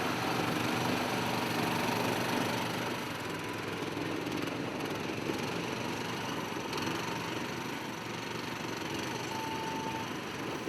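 Mini tank engines run at a military show, a steady buzzing high-pitched small-engine drone heard at moderate distance alongside outdoor crowd ambience, continuous without pauses.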